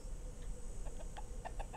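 A bird in the puzzle platformer Mimpi Dreams gives a quick series of soft clucks, about six short chirpy notes spaced irregularly over a low steady background hum.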